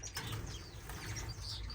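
Birds flap their wings in a bird room, a faint, soft fluttering and rustling that rises in brief bursts, with a few quiet chirps.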